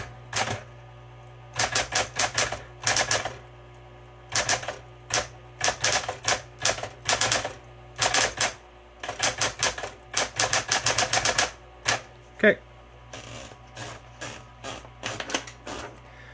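Keys clacking on a blue vintage Smith Corona Coronet Super 12 electronic typewriter, close and crisp, in quick bursts of strikes with short pauses, a louder single thump near the end, and a low steady hum underneath.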